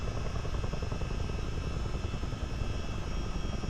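A CH-47D Chinook tandem-rotor helicopter in a flight simulator makes a loud, unbroken engine and rotor drone, dense and constant from start to finish with no talking.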